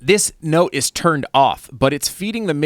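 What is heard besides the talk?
No everyday noises stand out.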